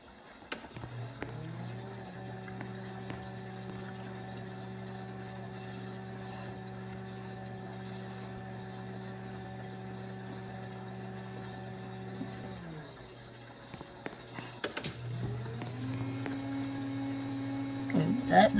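A garage door opener with a heavy-duty motor runs in a showroom with a steady grinding hum, stops for a couple of seconds, then starts up again louder.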